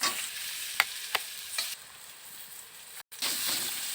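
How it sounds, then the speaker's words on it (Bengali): Boiled potatoes fry in hot oil with a steady close sizzle, broken by a few sharp scraping stirs and a brief dropout near the end before the sizzling resumes. "আবারও সেই তেলের মধ্যে সেদ্ধ করা আলুগুলো ভেজে নিচ্ছি।"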